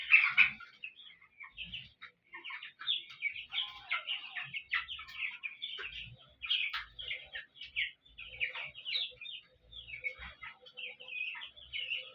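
Three-week-old poultry chicks chirp in a farm pen in Otukpo, Nigeria, a dense, continuous chorus of high peeping calls at moderate volume with no talking.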